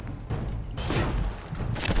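Heavy gunfire in Fallout 4 aimed at a player in power armor, loud booming bursts of shots that come in dense overlapping waves, swelling and easing across the stretch.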